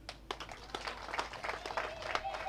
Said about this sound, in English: all of us in the FDC should applaud him for